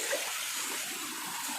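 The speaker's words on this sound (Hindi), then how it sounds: "little waterfall" A small waterfall on the off-road trail to Babadham waterfall near Harigaon road makes a steady close rushing hiss of falling water, with no voices.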